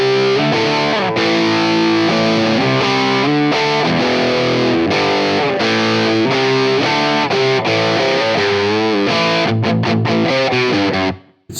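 Heavily distorted electric guitar played through the Line 6 Helix Cartographer amp model, loud chugging riffs and sustained chords filling the clip with no talk, then cutting off abruptly at the end.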